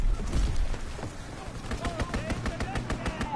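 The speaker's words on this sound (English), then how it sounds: "Enemy strafing run inbound." A rapid, steady run of gunfire from an enemy aircraft strafing in a WW2 video game, moderately loud, with a rumbling start and voices under it.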